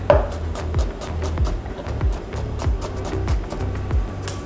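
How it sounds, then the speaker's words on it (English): Vegetables chopped quickly on a cutting board with a knife, a steady run of sharp thuds at a brisk, even rhythm, close and fairly loud, with no talking. "Quick chop."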